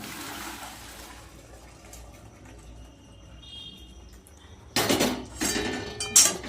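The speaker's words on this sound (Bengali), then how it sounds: "তো এদিকে আমার চাউমিন সিদ্ধ হয়ে গেছে এবার আমি এটা ঝুড়িতে ঢেলে নেব" Boiled vegetarian chow mein poured into a strainer basket: a quiet stretch, then a sudden splashing pour of water with clinking pot sounds in short bursts near the end.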